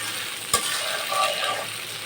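Eggplant pieces sautéed in a pan with turmeric and salt give a steady soft sizzle, with one sharp utensil knock near the start, alone with no voices.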